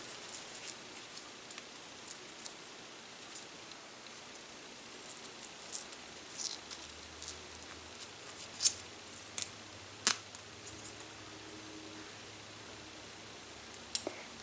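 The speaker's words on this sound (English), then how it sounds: "I'm just removing all of the paper from the crayon." Paper wrapper being peeled off a Vivid Tangerine crayon, heard as soft scratchy rustles and small clicks scattered through a quiet stretch, close and faint, with no talking.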